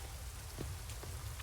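Steady rain falls in a dark town in The Witcher 3, a soft, even hiss of drops on surfaces with a few faint taps, quiet and continuous with no talking.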